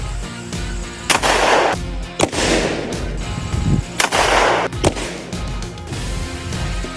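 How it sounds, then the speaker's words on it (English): Taurus Judge revolver firing .410 birdshot shells at work pants: several sharp, loud, close shots spaced about a second apart, each with a brief echoing tail. "So here we have a Taurus Judge shooting a 410 birdshot shell."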